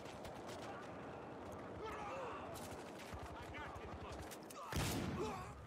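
Gunfire in Battlefield Hardline multiplayer on PS4, a burst of rapid shots rattling under a player's talk, with a louder blast near the end.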